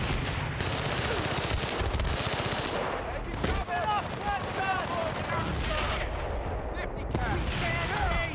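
Heavy fifty-caliber machine gun fire in Battlefield: Bad Company, a loud continuous rattling stream of rapid shots lasting several seconds, with bursts of other gunfire and effects layered over it and voices briefly heard underneath.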